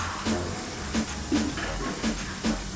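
An almond butter keto waffle cooking in a closed waffle maker, with soft repeated bursts of steam hissing roughly every half second over a low background hum.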